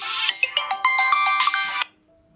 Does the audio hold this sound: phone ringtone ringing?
yes